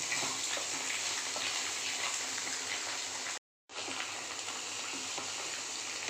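Sweet gourd (kakrol) fry being stirred in a pan gives a steady, close sizzle with soft scraping throughout, broken by a brief silent gap near the middle.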